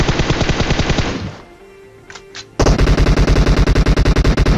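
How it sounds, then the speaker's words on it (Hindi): Rapid automatic gunfire in a video game rattles in loud, close bursts, breaks off briefly with a pair of small clicks, then resumes in a fast, sustained stream. "यहाँ पे फायरिंग होनी स्टार्ट हो जाती है।"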